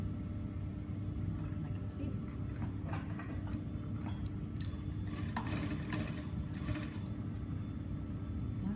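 A sewing machine stitches the waist seam of a lined skirt with a continuous low motor rumble and light ticking, close by, while a person talks at times over it.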